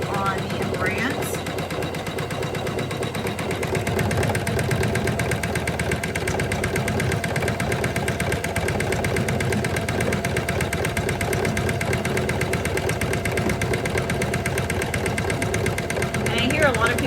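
A Janome 500e embroidery machine stitching a placemat design, making a dense, rapid, mechanical chatter that runs steadily and evenly throughout at moderate loudness.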